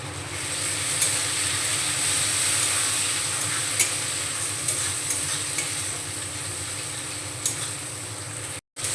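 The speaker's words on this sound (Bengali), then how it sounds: "পেঁয়াজ বাটা আর আদা বাটা দিয়ে 2-3 মিনিট মতো কষিয়ে নিয়ে" Ginger paste and onion paste sauté in a pan with fried chillies for a jackfruit curry, a steady, fairly loud broadband sizzle running throughout with occasional light stirring clicks.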